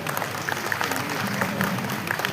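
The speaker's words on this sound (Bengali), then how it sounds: "সকলে একটু হাততালি দেবেন।" Audience applause at a Bengali music society's cultural programme, a dense steady patter of many hands clapping together, moderately loud and continuous throughout with no talk over it.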